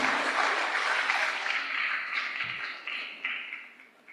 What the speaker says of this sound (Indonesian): berikan tepuk tangan yang meriah kepada beliau